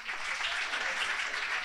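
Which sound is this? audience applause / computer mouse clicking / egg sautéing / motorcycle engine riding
audience applause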